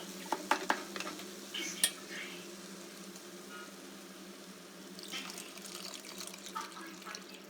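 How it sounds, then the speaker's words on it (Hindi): Water poured into an onion and tomato mixture in a pan, a soft watery pour and stir with a few small clinks at the start, moderately quiet and without talk. "अब इसमें हम डालेंगे पानी"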